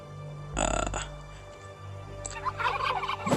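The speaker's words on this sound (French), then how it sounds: "Ah, il y a une autre dinde." A turkey gobbles in a video game, one loud burst followed a moment later by a second rattling gobble, with a low game ambience droning underneath.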